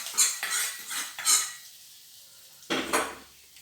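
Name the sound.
stirring jackfruit puzhukku in a pan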